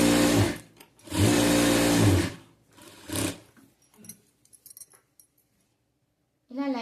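Sewing machine stitching lining onto the sleeves of a frill-style long frock, several close, loud bursts of rapid stitching separated by pauses, then light handling clicks.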